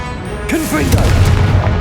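Confringo spell in Hogwarts Legacy, a sudden loud explosive boom with rumbling tail, heard close and alone.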